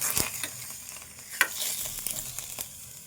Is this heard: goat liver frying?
yes